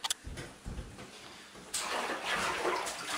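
Water pouring and splashing into a baby's bathtub, starting with small knocks and then a steady broadband rush of filling water at close range, with no talk.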